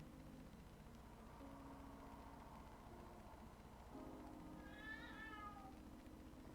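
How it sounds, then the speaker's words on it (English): A house cat meows several times for attention, a rising and falling call near the end, over a steady low hum and faint background noise in a quiet room. "this is my cat that you're probably hearing. She's just meowing for attention."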